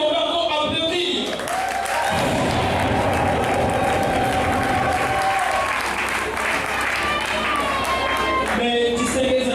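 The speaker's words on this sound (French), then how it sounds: "On va encore applaudir." Loud sustained applause from an audience at a customary wedding ceremony, continuous clapping for several seconds with crowd noise and voices mixed in, tapering at the end.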